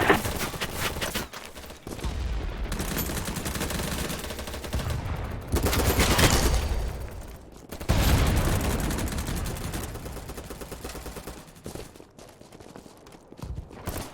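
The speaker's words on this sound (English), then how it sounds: "As I push in, I see someone shooting on the close shelf" Gunfire in BattleBit Remastered, sustained rapid shooting in dense bursts with brief gaps, loud and close, layered with busy in-game battle noise throughout.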